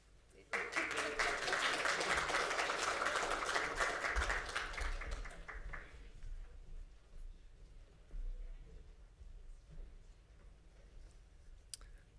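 A church congregation claps during a Sunday service, brisk dense clapping for several seconds that then stops, leaving a quiet room with faint shuffling and a few soft knocks.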